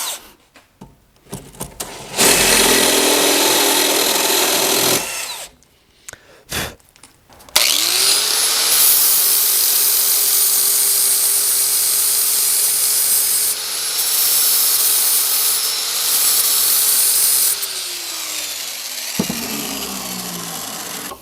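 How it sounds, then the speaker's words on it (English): Drilling into a bare metal Mini Cooper fuel rail during a 1.8T swap: short bursts of grinding and rubbing, then a long, loud, sustained drill whine that steadies, dips briefly and stops, followed by quieter scraping. "next, we're going to drill this out."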